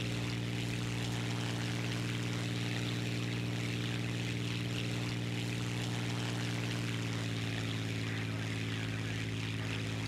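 The engine of an I-16 Type 27 fighter plane in War Thunder drones in a steady, loud, buzzing propeller hum with unchanging pitch, alone and without talking throughout.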